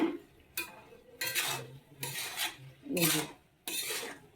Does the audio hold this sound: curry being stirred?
yes